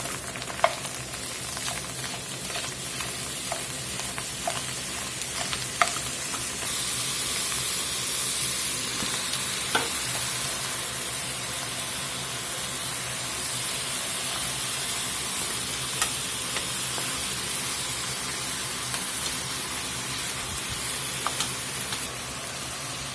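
Ground meat sizzles with vegetables in a hot pan, a steady loud frying hiss with occasional crackles and stirring scrapes, running unbroken with no talking.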